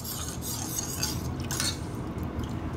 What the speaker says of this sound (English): Stir it around, look, the knife's upside down